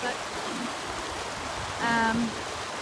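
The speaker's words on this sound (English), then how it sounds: "we're just gonna ford this little stream river thing and keep going" A small stream flows across a dirt trail on the Pacific Crest Trail, its soft, steady hiss of water running underneath a person talking.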